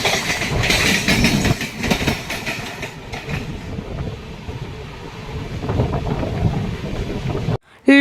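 The Howrah-Bengaluru Duronto Express rolls along the tracks with a loud, steady rumble and rhythmic clickety-clack of the wheels, heard close up, fading slightly before a sudden break near the end.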